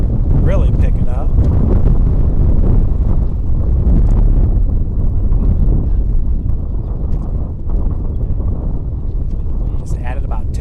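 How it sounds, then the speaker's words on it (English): Strong gusting wind batters an outdoor microphone at a college baseball game against Goshen, a loud, continuous low roar and buffeting that barely eases across the whole stretch. "Obviously, you can hear the winds picking up"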